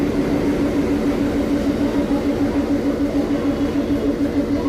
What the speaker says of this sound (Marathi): Chugging sound.